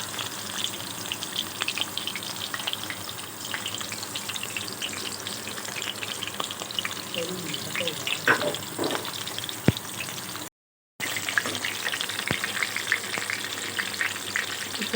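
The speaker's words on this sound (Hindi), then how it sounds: "इस तरह से आप इनको अच्छी तरह से फ्राई कर लें।" Keema-stuffed bitter gourds fry in hot oil, producing a loud, continuous sizzle and crackle with occasional stirring clinks and a brief dropout near the end, with no talking.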